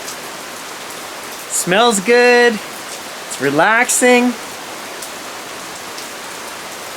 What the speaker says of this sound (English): I do enjoy a good rainstorm.